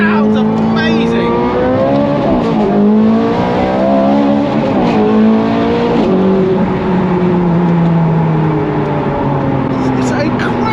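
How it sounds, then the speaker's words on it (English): Ferrari 430 Scuderia exhaust while driving at low speed through corners, a loud, continuous engine note that rises and falls as the revs change, with a person talking over it throughout. "It's incredible how that exhaust makes 30 miles an hour seem so fast."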